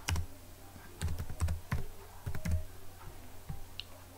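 Keys clatter on a computer keyboard while entering text in AutoCAD, close and crisp, arriving in uneven bursts of quick strokes with short pauses between, heard alone.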